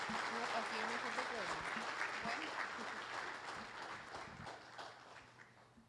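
An audience claps in a steady burst that slowly fades over several seconds, with a voice talking over the start.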